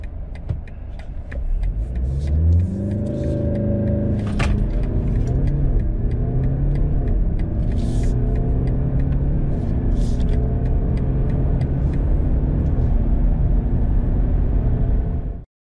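The 2-liter, 190-horsepower diesel engine of a 2019 BMW 320d rumbles loudly and rises in pitch through the gears as the car accelerates, heard from inside with steady road noise.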